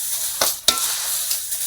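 Poha being stirred and mixed in a frying pan: a soft sizzling bed broken by two sharp scraping strokes close together near the start, then a fainter scrape later, with no talking.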